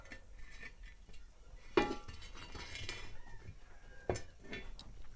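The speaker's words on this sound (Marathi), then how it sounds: "तवा घेऊ चुलीवर ठेवून आता" An iron griddle (tawa) is set down on a rustic wood-fired stove, producing two sharp metallic clanks amid soft background rustling and faint outdoor sounds.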